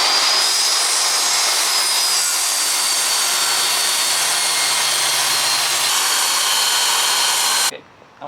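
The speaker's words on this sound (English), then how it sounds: "we're going to pull this over, clamp this in place, and we're going to glide straight down" Circular saw gliding straight down a clamped plywood sheet, a loud, steady, continuous whine for nearly eight seconds before it abruptly cuts off near the end.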